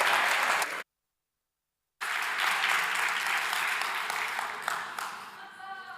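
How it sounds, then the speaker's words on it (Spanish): Audience applause for a speaker at a local SEO talk, a dense crowd clapping loudly and steadily, cut by a sudden silent gap before resuming and slowly tapering off. "Un aplauso para Edu, por favor."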